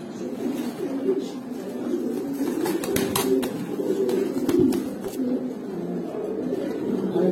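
A Romanian double pigeon from 2019 coos steadily in low rolling calls, with scattered clicks and rustles of nearby birds and no voices over the sound.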